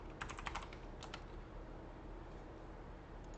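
Quick, light keystrokes on a computer keyboard at a desk while working in Unreal Engine 5, a short faint flurry of clicks near the start, then only a low steady room hum.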